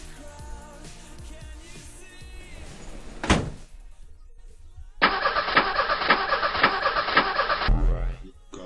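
Car engine starting before a drive to work: a door thunks shut, the starter cranks, and the engine catches into a loud steady idle that runs for a few seconds before another thump.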